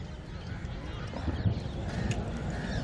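Polo horses gallop across the field during the SMS Gold Vase 8-goal final, their hooves thudding in a loose, uneven rhythm beneath continuous commentary.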